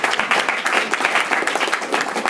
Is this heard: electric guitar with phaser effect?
no